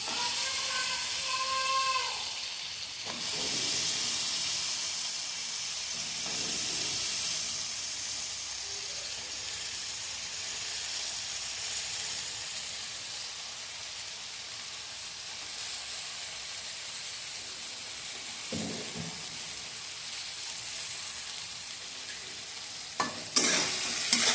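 Cut yardlong beans and other vegetables for a vegetarian curry fry in a pan, just after water goes in. A loud, steady sizzle lasts throughout, with occasional stirring scrapes near the start and a few sharper clinks at the end.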